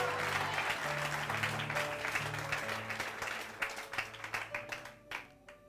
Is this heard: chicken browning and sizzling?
no